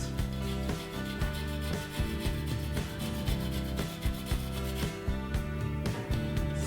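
A lemon is zested on a cheese grater over sliced, peeled apples for an apple pie, giving rapid rhythmic rasping strokes, close and steady, heard alone over a constant low hum.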